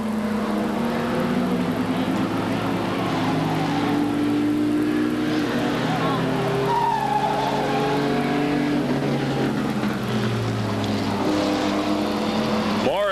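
Stock cars race on the Bryar Motorsports Park oval at a 1985 weekly event, engines droning steadily in a dense pack throughout, with a race commentator talking over them.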